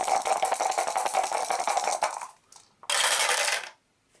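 Three dice rattle and tumble across a table during an Arkham Horror board game, a continuous loud clattering roll that stops, followed by a second short burst of rattling before silence.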